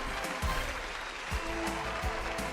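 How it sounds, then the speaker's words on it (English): A crowd's applause hisses as a dense, steady wash at a live trivia night, moderately quiet and even throughout, with a few louder thumps mixed in. "Enough with the applause."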